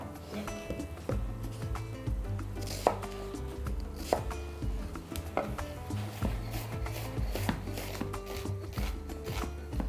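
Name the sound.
chopping onion finely with knife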